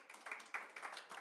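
Brief burst of clapping at a Culturama 2023 media launch, a thin, quiet patter of a few hands for a representative, with uneven rhythm and no talk over it.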